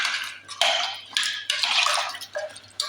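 A spoon scrapes and clinks against a pot while jackfruit seed curry, seasoned with turmeric and chili powder, is stirred, giving a few wet, bright bursts of stirring close by with short pauses between.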